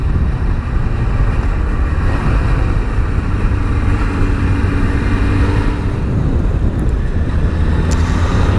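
Motorcycle ride on the freshly surfaced GC 200 road along Gran Canaria's west coast, a loud, continuous engine drone mixed with heavy wind rush, steady throughout with no speech.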